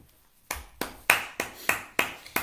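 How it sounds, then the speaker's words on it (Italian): Applause from a live audience at an Italian book presentation and author tribute, heard as six distinct sharp claps or bursts spaced roughly half a second apart, fairly faint and with no talk over them. "Applausi in diretta e virtuali"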